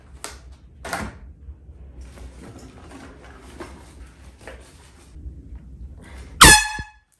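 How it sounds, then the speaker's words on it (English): A single loud boat safety air horn blast cuts in sharply near the end, brief and piercing, after a stretch of quiet clicking and handling noises. "Holy crap, that's loud. Air horn."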